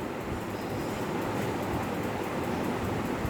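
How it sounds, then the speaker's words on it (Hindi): A waterfall pours from a high mountain peak in a continuous broadband rush, loud and unbroken, like steady roaring water with no voices. "कल कल करते ऊंची पहाड़ी शिखर से गिरते हुए झरने"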